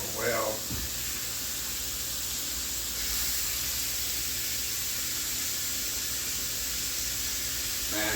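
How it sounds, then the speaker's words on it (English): Lamb loin chops searing in a hot pan give a steady, even hiss that runs the whole time with little change, beginning with a short low thump. "We want to sear it 3 to 4 minutes on each side."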